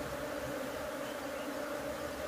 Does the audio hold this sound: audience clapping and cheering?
no